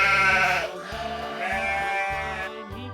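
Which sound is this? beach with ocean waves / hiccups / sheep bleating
sheep bleating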